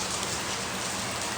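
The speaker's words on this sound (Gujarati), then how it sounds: "વરસાદ ચાલુ થઈ ગયો" Rain at night, just starting, gives a brief, steady patter and hiss of drops landing on surfaces, close and continuous, with no voices.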